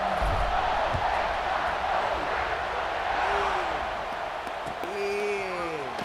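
A stadium football crowd keeps up a steady, loud roar after a score, with whistles and shouts rising over the wash of noise. A few brief rising and falling whistle calls stand out near the end.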